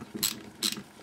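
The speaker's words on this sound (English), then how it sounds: "we've just got to undo these two long screws, which will go down to the bottom of here" Two brief ratcheting metallic bursts from a tool undoing the two long screws on a DRZ400SM motorcycle starter motor, close up, with a short pause between them.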